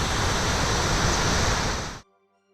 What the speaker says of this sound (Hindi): लगभग 12 मीटर की ऊंचाई से गिरने वाला ये झरना अपने 2 अलग अलग स्तरों और खूबसूरत नज़ारों के लिए मशहूर है